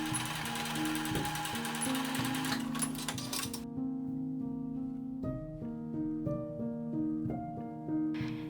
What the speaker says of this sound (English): Fold the long tie over to hide the raw edge and top stitch it securely.